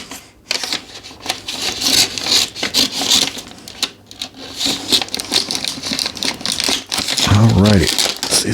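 Scissors snip and scrape into a cardboard Priority Mail box, with crinkling, rubbing and tearing noises close up while a person talks over the cutting.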